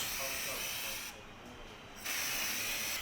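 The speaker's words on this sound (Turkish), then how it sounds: "Balata spreyimizle sıkıyoruz." A sustained aerosol spray of brake cleaner hissing close by onto an Opel Vectra 2.0 engine's exhaust manifold heat shield, pausing briefly in the middle before resuming just as strongly.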